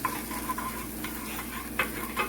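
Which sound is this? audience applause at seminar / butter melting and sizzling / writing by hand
butter melting and sizzling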